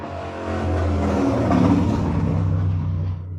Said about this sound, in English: if there's something I hate, it's dirt bikes going up the road, full noise